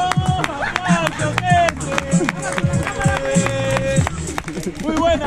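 A crowd claps and cheers at the close of a Spanish-language freestyle rap battle, with a steady patter of hand claps under shouting voices and whistle-like calls.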